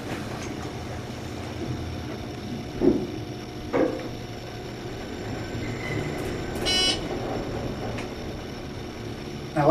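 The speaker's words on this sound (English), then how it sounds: "I want you all to listen to the motor start and stop." A Thyssenkrupp ISIS 2 elevator motor in Lane Stadium at Virginia Tech hums low and steadily with a faint tonal whine, broken by a couple of soft clunks and a short bright chime.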